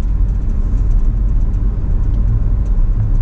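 Steady car on a road in the Rio Grande Valley of Texas, passing between Pharr, Edinburg and McAllen: continuous low engine rumble and tire whir, loud and close, with no voices.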